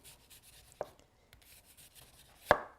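A knife cuts thin slices of peeled red onion on a board, with two distinct, crisp taps of the blade, the second louder, over faint quiet handling sounds and no talking.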